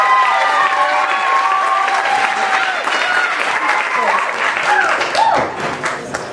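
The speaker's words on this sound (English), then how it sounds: "Clap for Nadira." Audience applause and cheering for a poet being welcomed onstage, a dense sustained wash of clapping with scattered shouts and whoops, steady and loud throughout.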